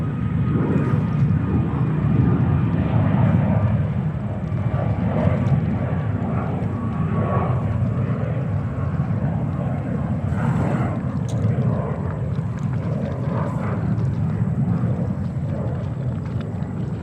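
An airliner taking off at JFK Airport in New York, a sustained broad jet roar holding steady and loud throughout, heard from outside at a distance.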